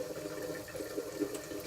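Water boils in a steam distillation setup, a faint, low, continuous rumble and bubbling heard up close with no voices.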